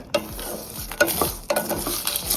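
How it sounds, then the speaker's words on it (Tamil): Chopped ingredients being sautéed and stirred in a pan for a dosa side dish, a spoon scraping in quick repeated strokes over a steady sizzle. "இதை நல்லா வதக்குங்க"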